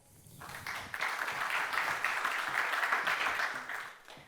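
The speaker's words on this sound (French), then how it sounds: "On peut l'applaudir bien fort." Audience applause at a French business presentation, a steady wash of many hands clapping that swells quickly, holds for several seconds at moderate loudness, then fades out at the end.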